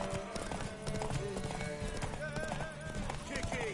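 Horse hooves clip-clop in a quick rhythm with an occasional whinny in The Witcher 3 on PS5, under a busy mix of other sounds and voices.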